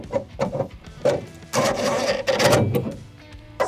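A screw is driven into a swimming pool kit fitting with a power driver, short bursts of whirring and grinding in quick succession with rubbing clatter between them, close by.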